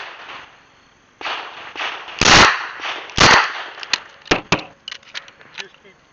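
Revolver gunshots at a USPSA practical shooting match: a string of sharp, loud close-range cracks with irregular spacing, several in quick pairs, while people talk nearby.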